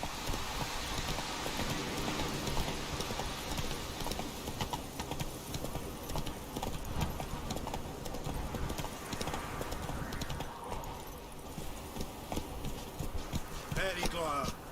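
The horse Roach gallops in The Witcher video game, a dense continuous drumming of hooves with clattering detail throughout, close and loud, with a voice calling out over it.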